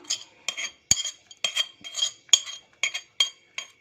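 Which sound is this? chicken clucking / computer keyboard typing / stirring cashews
stirring cashews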